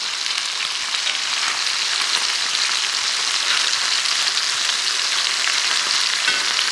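Deer sausage links fry in a cast iron pan with a steady, dense sizzle that holds at an even, fairly loud level throughout, with no talking.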